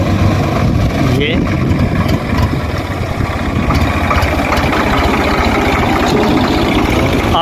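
Swaraj 744 tractor engine running steadily with a loud, low diesel drone throughout, while people talk over it.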